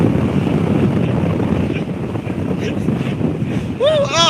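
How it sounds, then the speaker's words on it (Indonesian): Strong wind buffets the microphone on a moving boat, a loud, continuous rumbling roar that persists throughout, with a brief rising tonal sound near the end. "Kencang sekali anginnya ini."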